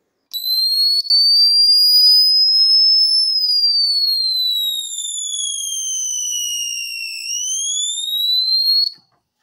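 Electronic pest repeller test tone: a loud, piercing high-pitched electronic whine sustained for about nine seconds, sweeping slowly down and back up in pitch, alone and close.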